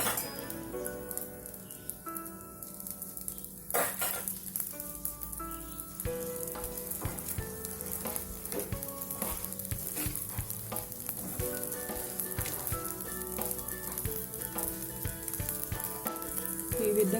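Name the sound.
flattened-rice dosa sizzling in oil on a pan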